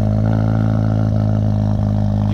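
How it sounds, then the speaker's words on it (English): Cold start of a 2023 Chevy Silverado 2.7 Turbomax High Output fitted with a Cherry Bomb muffler after sitting all day, a loud, deep, steady exhaust drone with strong low rumble, recorded close with no talking. "so I'm going to do a cold start."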